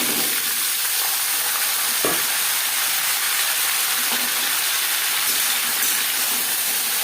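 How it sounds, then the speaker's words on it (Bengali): Pumpkin and Malabar spinach stalks fry in hot oil with whole spices in a pan, a loud steady sizzle and hiss throughout, with a few faint clinks of stirring. "5 ফোড়ন ভেজে নেওয়ার পর দিয়ে দেব কুমড়ো"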